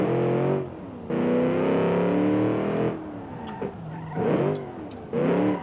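A simulated car engine in the Automation car tycoon game revs hard through several rising pulls, dropping between shifts, with a loud, steady, close engine tone and no talk over it.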